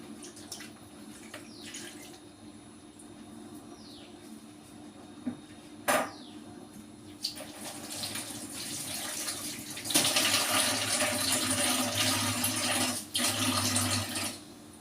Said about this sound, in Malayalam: ഈ പാത്രം അരപ്പെല്ലാം കഴുകി ഇതിലേക്ക് ഒഴിക്കാം.